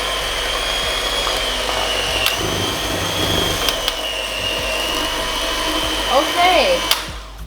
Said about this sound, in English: I'm gonna use the mixer because I'm just tired, to be honest.